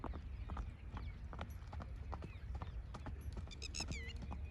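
Horse hooves clip-clop in a steady rhythm as a horse is trained in the single-foot gait, close and distinct over outdoor background noise, with a few faint bird-like chirps near the end.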